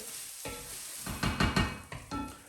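Rice being stirred in a frying pan, about 250 grams for four, a one-pot rice dish: a run of close scraping, rustling strokes with soft sizzle beneath, irregular bursts at a lively pace.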